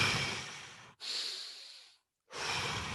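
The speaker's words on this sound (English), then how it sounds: "extreme deep breathing." Three extreme deep breaths during a breathing exercise, each a long, close, airy inhale or exhale, with brief silent gaps between them.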